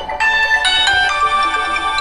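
A mobile phone rings loudly and close by with a bright, repeating electronic ringtone that carries through about two seconds.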